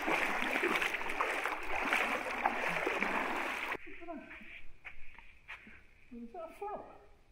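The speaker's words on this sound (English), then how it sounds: "He's making as much splash as possible" Water splashes hard and continuously for several seconds, a man thrashing in a river in Australia's Gibb River Road country to scare off a crocodile, then quieter gurgles and ripples follow as voices talk nearby.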